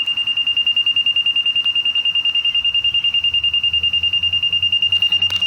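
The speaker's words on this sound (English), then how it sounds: "as I pull it up, it'll start beeping." A detector being pulled from Victorian brickwork gives a loud, steady high-pitched electronic tone with a fast pulsing rhythm, continuous and close, with a faint low rumble underneath and a brief rattle near the end.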